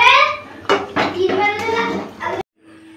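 A cooking pot clatters and scrapes in a few loud metallic knocks as it is lifted off a home stove, with a voice talking over it before a sudden quiet.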